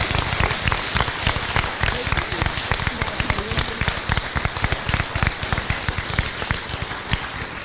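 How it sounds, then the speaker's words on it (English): An audience at a National Honor Society induction in Albert Lea claps for new inductees, a dense, steady patter of many hands lasting several seconds with individual sharp claps standing out near the listener. "If we could give all of these new inductees a round of applause"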